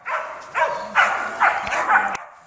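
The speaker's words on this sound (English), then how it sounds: "Get here, dog." A hunting dog barks and whimpers during a boar hunt outdoors, giving five loud, close yelps in a steady rhythm of roughly half a second apart, ending with a sharp click.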